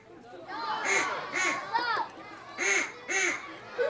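A voice imitating a duck, giving five nasal quacks in a loose rhythm, close and fairly loud.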